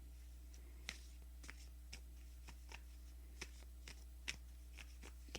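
Tarot cards being shuffled by hand, giving faint, irregular crisp riffles and taps over a steady low hum, with no talking.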